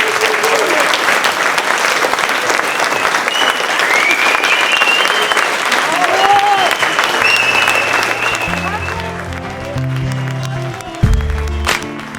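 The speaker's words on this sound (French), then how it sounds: "je vous demande encore une fois de les applaudir" An audience at an intergenerational forum gives loud, sustained applause that fills the room, with voices mixed in and some low rumbling and thumps as it tapers off near the end.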